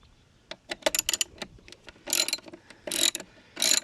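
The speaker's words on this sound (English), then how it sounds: "This time we're going to use a 13 millimeter socket on a 10-inch long 3/8 extension." A ratchet with a 13 mm socket on a long 3/8 extension loosens the battery hold-down in a 1995 Mercedes-Benz E320 (W124), with scattered clicks followed by three fast buzzing ratchet bursts, close and alone.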